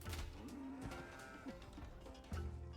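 Cattle in a strategy video game moo in short repeated calls, several low lows overlapping against a busy background of game sounds, with no talking.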